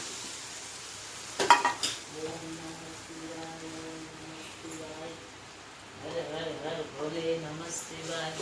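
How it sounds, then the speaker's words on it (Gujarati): Dhokla pieces are stirred into a tempering with curry leaves, giving a soft, low sizzle with a clatter of the spoon near the start, while someone talks over much of it. "હવે આપણે ઢોકળા નાખી દેસી."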